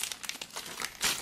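Shrink wrap being crinkled and torn off a Magic: The Gathering Portal 2 player starter set by hand, a quiet, close burst of crackling plastic ending in a brighter rip, with no voices.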